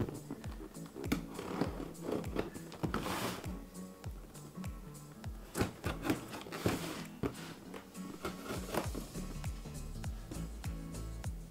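A Ryobi P782 hybrid tripod light stand being unboxed, with close crinkling, rustling and tapping of packaging in irregular bursts throughout.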